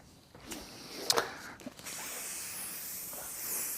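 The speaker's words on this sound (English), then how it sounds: "So that's just a spray of silicone spray, because this fabric's very grippy." Silicone spray from an aerosol can hisses onto thick sofa fabric during reupholstery, a few light handling knocks first, then a steady, close, sustained spray that runs to the end.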